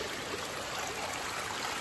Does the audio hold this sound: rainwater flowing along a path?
yes